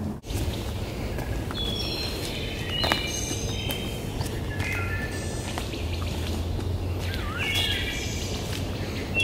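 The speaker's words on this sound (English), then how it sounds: "The birds sound really pretty." Birds singing outdoors, with scattered chirps and short trills coming from a distance over a soft background hum, no voices present.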